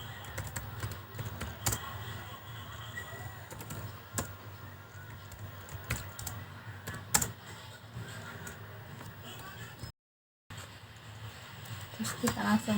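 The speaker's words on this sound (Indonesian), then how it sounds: "Bisa kita langsung ketik inputkan saja." Typing on a computer keyboard while values are entered, a steady patter of quiet key clicks with a few sharper taps, running under a voice speaking Indonesian and broken by a brief silent gap.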